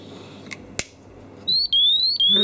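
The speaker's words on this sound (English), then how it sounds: "So we can now see the unit is in the second level of danger alarm" A Honeywell BW Icon gas detector goes into danger alarm with gas applied, sounding rapid high electronic beeps in close, loud bursts after a couple of faint clicks.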